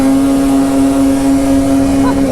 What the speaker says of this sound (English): Another quick race, we'll throw the 165 turbo in the mix.